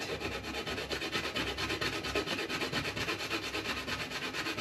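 Whole nutmeg rasped against a grater for Jamaican black cake, a steady close scraping that repeats in quick even strokes throughout, with no talking.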